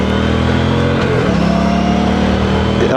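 An Aprilia Tuono 457 motorcycle engine revs hard and steadily at close range, a loud, continuous mid-pitched drone that holds and swells with the throttle, with no talking over it.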